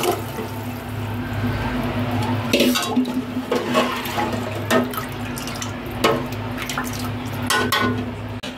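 Water pours into a roasted masala paste in a pan, a close, steady splashing trickle with a low hum beneath and scattered clinks and taps of utensils, no talking.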